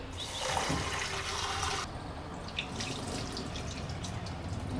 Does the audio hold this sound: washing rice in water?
yes